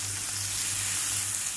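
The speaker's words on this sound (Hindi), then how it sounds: "प्याज को हमें 3 से 4 मिनट तक यहाँ पर फ्राई करना है।" Grated onion frying in oil for arbi (taro root) masala gives a close, steady sizzle that holds evenly throughout with no voices.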